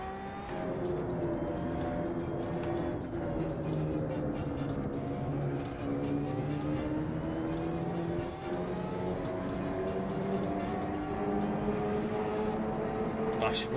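Steady engine drone with rising and falling harmonics, a racing car's engine and road rumble in the racing game Assetto Corsa, running continuously and loud throughout, no clear talking.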